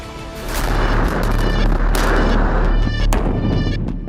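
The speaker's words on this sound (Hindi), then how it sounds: "ताबड़तोड़ गोलियां चल रही हैं" Rapid bursts of fake gunfire crack over a low rumbling roar, sharp shots overlapping in quick succession like a heavy, sustained barrage during a staged military exercise.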